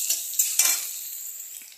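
Spices for a rohu fish curry sizzle in hot oil in a pan while a utensil stirs them with a few scraping strokes. The close, bright frying hiss fades slightly over the short moment.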